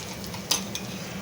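Mustard seeds and asafoetida sizzle in hot oil in a pan while being stirred, a soft steady crackle with one sharp clink of a spoon against the pan.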